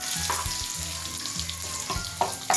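Coconut slices roast in oil in a pan for shev bhaji masala, a steady close sizzle with a few sharp stirring scrapes and clicks throughout.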